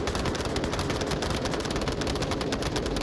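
Rapid, dense gunfire from a VR shooter game match in a competitive league, a continuous loud barrage of overlapping shots with no pauses and no talk.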